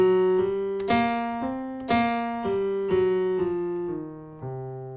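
A piano plays the blues scale in C, one clear note after another at an even pace, each struck note ringing and decaying, heard alone with no talk.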